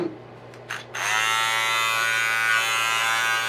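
A London Drugs Premiere beard trimmer, just repaired, clicks a couple of times and then starts up. It settles into a close, steady electric buzz that holds evenly to the end.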